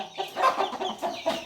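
A hen clucks repeatedly in soft, uneven bursts, a low murmuring cackle at moderate distance with no talking.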